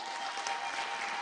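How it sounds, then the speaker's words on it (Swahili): Applause from an audience at a county security forum in Nyandarua, a steady wash of clapping lasting just over a second with no voices over it. "pigia yeye makofi"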